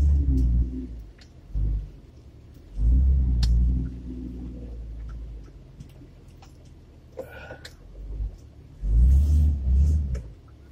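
A lifted Jeep XJ stuck in mud roars in repeated deep revving bursts with quieter idling rumble between them. Distant voices and small ticks surface during the lulls.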